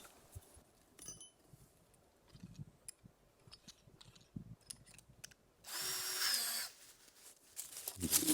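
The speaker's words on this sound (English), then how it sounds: "we put our 10mm drill bit in." A power drill with a 10mm bit whirs through a wooden plank in one loud burst of about a second, surrounded by quieter clicks, taps and handling noises.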